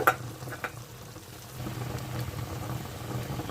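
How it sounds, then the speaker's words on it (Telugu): Spiny gourd curry with cashews frying in a pan, a steady low sizzle with a few soft stirring clinks near the start, close and continuous without talk. "జీడిపప్పు వేసుకుందామండి"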